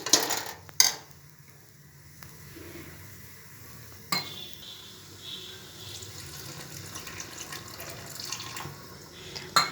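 Water is poured into a mashed potato mixture for aloo tikki in a kitchen, giving a soft steady trickle and splash with occasional sharp knocks of a utensil against the bowl.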